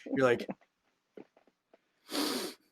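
A voice makes breathy sniffing and snorting noises imitating an animal sniffing, with short gaps and small clicks between them.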